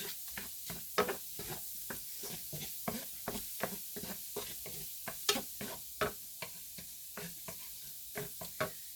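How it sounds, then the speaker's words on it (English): Shrimp stirred in a tablespoon of butter with Creole seasoning in a pan, a soft sizzle beneath a steady rhythm of sharp scraping and tapping strokes, close and without talk. "So I just stir my shrimp around in a tablespoon of butter and that Creole seasoning"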